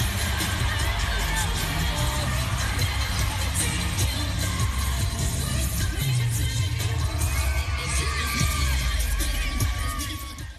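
A large crowd applauds and cheers for the Sikh community in Manchester, with dense, continuous clapping and whoops close and loud throughout, fading slightly at the very end.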